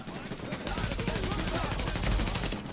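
Rapid, sustained gunfire from a suppressed weapon in the video game Tom Clancy's The Division, a dense rattling burst running steadily throughout, loud and close with faint background game noise.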